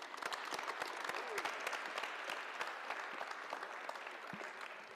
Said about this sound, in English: So let's give everyone a big hand.